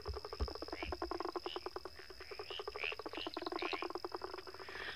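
Mascarene frogs call at night in a dense, steady chorus of rapid pulsed croaks, layered with a constant high insect trill and the chirps of other frogs on an African safari wildlife reserve.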